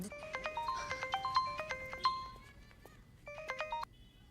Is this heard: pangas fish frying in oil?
no